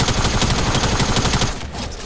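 Rapid automatic gunfire in Fortnite, a dense burst of shots firing loud and close for about a second and a half before cutting off into a quieter tail.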